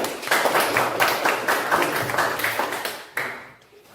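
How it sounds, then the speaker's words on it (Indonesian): Children in a classroom clap their hands together in a quick burst of uneven, overlapping claps that tapers off near the end, with faint voices under it. "tepuk tangan untuk komentar"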